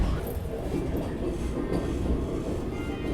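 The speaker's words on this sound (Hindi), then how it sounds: "दुर्ग भोपाल अमरकंटक एक्सप्रेस के साथ अपनी क्रॉसिंग हो रही है यहाँ पे।" A Vande Bharat train crosses the Durg Bhopal Amarkantak Express, a loud, continuous rumbling roar of rolling rail cars with a dense low-end drone throughout.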